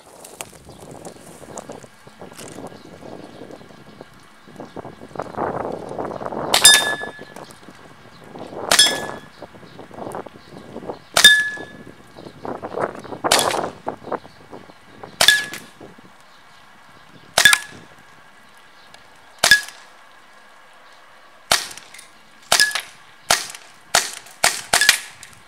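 Airsoft BBs from an STTi M9 pistol strike a beer can, giving a series of sharp metallic pops and pings, irregular at first and then quicker near the end, over faint wind with no speech.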